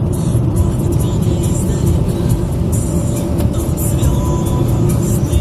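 A car drives steadily through snowy winter weather on a trip to go ice fishing, its engine and road roar loud and constant from inside the cabin, with faint voices now and then.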